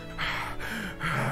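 Breathy, ragged panting from an exhausted fighter in Naruto Storm 4, two or three short gasping breaths close up and fairly quiet.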